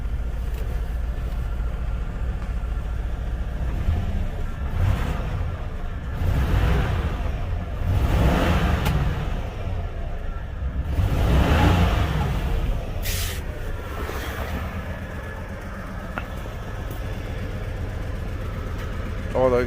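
A Chevrolet Impala engine idles steadily after a fuel pump repair, low continuous rumble with quiet exhaust, recorded close while someone talks over it.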